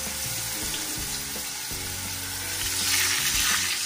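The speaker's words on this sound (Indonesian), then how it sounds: "Sekarang kita mau goreng tempe." Thin slices of tempeh fry in hot oil, giving a steady close sizzle and crackle throughout that swells slightly louder toward the end, with faint clinks and stirring underneath.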